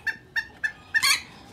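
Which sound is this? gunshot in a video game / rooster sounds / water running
rooster sounds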